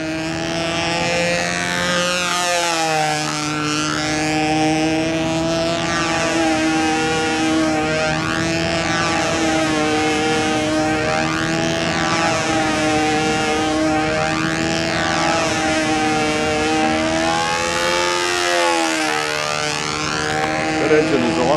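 A retro control line model airplane engine screams continuously at an outdoor fun fly, its loud, buzzing drone rising and falling in pitch again and again as the plane circles past.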